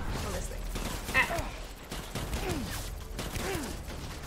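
Gunfire crackles in Death Stranding, a dense scatter of sharp shots and mechanical clatter running through a rough battle bed, with someone talking over it.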